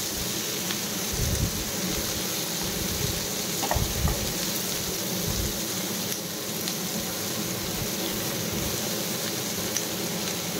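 Onion, garlic and green chili fry in a pan with a steady, rain-like sizzle, broken now and then by soft stirring scrapes, close and continuous with no talking.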